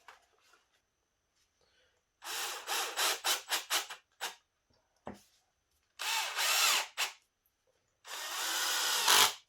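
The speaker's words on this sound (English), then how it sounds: "Simply center them up and screw them in." A power drill drives adjustable leveling feet into the wooden 2x4 and 2x3 legs of an N scale model railroad layout, whirring in several short bursts, then longer runs, close up in a quiet room.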